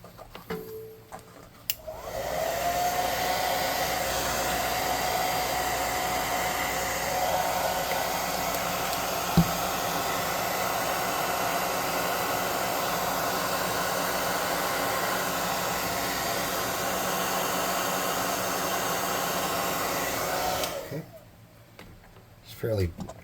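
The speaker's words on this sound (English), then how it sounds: "Now, let's air gun him a little bit and get some metallic." Airbrush spraying metallic paint onto a painted ogre miniature, a steady broadband hiss of compressed air running continuously for about twenty seconds, close and fairly loud, with a single faint click partway through.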